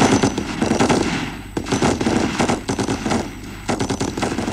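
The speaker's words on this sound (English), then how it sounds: "The best marksmen with the light machine gun were also in operation today." A light machine gun fires rapid, loud bursts at an outdoor military shooting competition, the rattling volleys overlapping and echoing with brief gaps between strings of shots.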